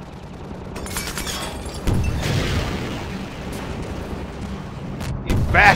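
Gunfire and blasts in the Half-Life 2 lighthouse fight, with dense bursts of shots and booms that swell around two seconds in and again near the end, loud and close against a constant rumble.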